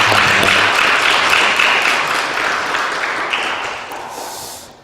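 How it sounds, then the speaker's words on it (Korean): Church congregation applauding together, dense steady clapping that fills the room, then thins and fades out toward the end. "우리 최성혜 집사님을 위해서 우리 힘 내시라고 우리 박수 한번 해주겠습니다."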